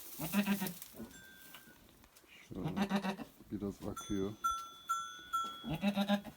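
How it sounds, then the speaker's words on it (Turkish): A pregnant goat near kidding, bleating in a straw-bedded farm shed on a snowy village day; several loud, wavering bleats come close by in bursts, with a person speaking between them. "Bu keçimiz bağırmaları arttı."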